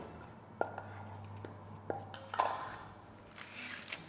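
Cheesecake base mixture is spooned from a bowl into a ring mold, giving faint scattered clinks and scrapes of a utensil against metal and glass, with a low steady hum underneath.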